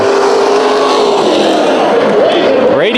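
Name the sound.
race cars restarting on green flag at speedway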